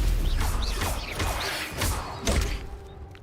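Stupefy spell cast in Hogwarts Legacy, a series of heavy magical thuds and whooshing impacts, several loud bursts close together with fainter crackles between them.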